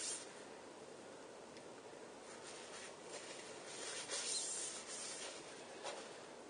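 A cloth rubs and wipes a bicycle crank spindle during a crank swap on a Tern Verge P9 folding bike, giving a faint, close, scratchy rubbing with short swipes that swell louder midway through.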